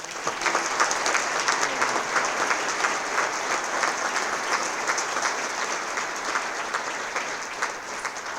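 Audience at a Founder's Day college ceremony applauding award recipients, steady and sustained clapping from a sizeable crowd filling the room throughout.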